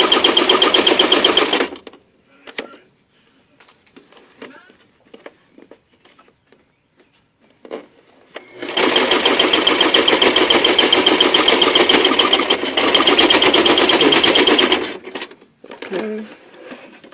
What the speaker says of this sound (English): Now we're going to take this to the sewing machine, and we're going to go ahead and sew that opening close.